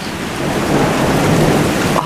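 A thunderstorm rumbles outdoors with heavy rain pattering on surfaces. Thunder and rain form a dense, loud, continuous roar with no voices.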